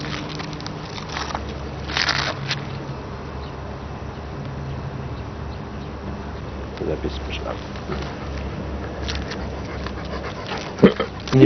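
A Doberman pants in quick, rhythmic breaths close by, with a short whimper and some light crackling rustle around it; a person speaks briefly in the background.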